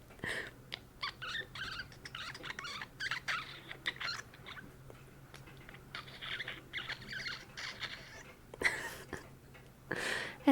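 Person imitating a mouse with high, thin squeaks and tiny chirps, a quiet, close, irregular patter of squeaking and clicking mouth noises lasting about ten seconds, with no talking.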